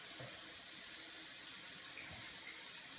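Water runs steadily from a tap through a freshly cleared pipe, a soft continuous hiss and trickle at moderate distance with no talking.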